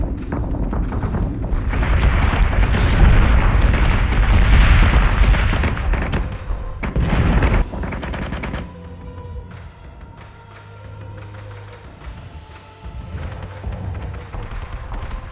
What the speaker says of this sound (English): Keep that flak wall up.